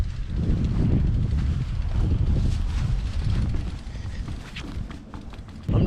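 Gusty wind buffets the microphone at an outdoor skate park on a cold, bright day, a loud rumbling roar that eases slightly before surging back at the end.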